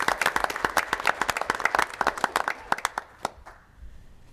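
An audience at a school board meeting applauds a teacher with a brisk burst of clapping that thins into a few scattered claps and fades out toward the end.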